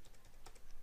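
A short, soft patter of keystrokes on a computer keyboard as a plotting command is typed, about eight faint, closely spaced taps with no speech.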